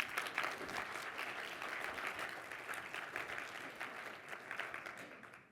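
An indoor audience claps after a stand-up comedy talk at a product marketing event, a dense and steady round of applause from a moderate distance that fades out at the end.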